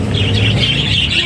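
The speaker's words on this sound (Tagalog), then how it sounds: "Tingnan natin yung ating mga ibon." Pet birds chirp and squawk in a brief, loud, close burst of overlapping calls with a rapid fluttering trill running through it.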